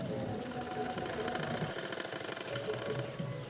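A sewing machine stitching a mekhela runs in a steady, fast mechanical chatter close by, with someone talking faintly underneath part of the time.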